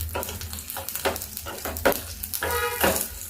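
Mustard seeds and dried red chillies sizzle and crackle in hot oil for a peanut-coconut chutney tempering, a close, busy frying with bursts of popping spatter and no talk.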